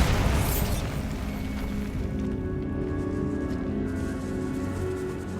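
A Bombarda spell detonates in Hogwarts Legacy, a deep booming blast at the start that rolls into a long low rumble and fades under ambient game sound.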